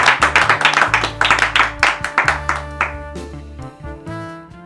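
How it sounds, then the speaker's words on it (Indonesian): A podcast studio audience claps for a guest history educator, a dense burst of applause loud and close with rhythmic hand claps, while musical tones play underneath and the clapping fades toward the end. "Tepuk tangan buat Arul"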